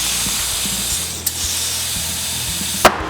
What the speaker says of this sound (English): Now we got the compressor.